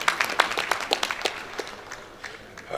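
Sparse applause at a builders' conference opening ceremony, a small group clapping with distinct sharp individual claps that thin out and fade before a brief rise at the end.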